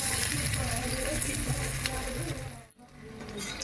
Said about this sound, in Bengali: এভাবে করে আমি সবগুলোকেই ভেজে নেব।